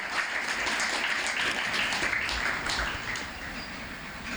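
Audience applause at a school poetry gathering with children, a dense steady wash of many hands clapping throughout, fairly loud and continuous, easing slightly toward the end.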